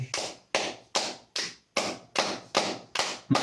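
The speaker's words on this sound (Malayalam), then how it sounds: "clap four 5 seconds loudly" A group of people clapping their hands loudly in rhythm together, about nine strong, evenly spaced bursts in quick succession, close and crisp.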